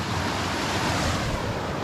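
Water pours down steadily at Fruit Bat Falls, a waterfall on Cape York, making a loud, close, continuous roaring rush with no voices over it.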